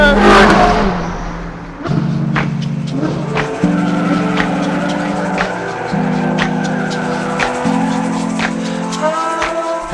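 A Ferrari 458 Speciale with a Novitec exhaust revs close by. A loud burst is followed by a series of stepped, droning engine tones broken by sharp crackles and pops.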